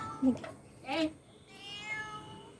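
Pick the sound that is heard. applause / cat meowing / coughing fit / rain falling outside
cat meowing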